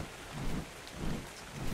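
Heavy rain in the video game Ark pours as a dense, steady hiss with low rumbling swells, loud and close, no voices.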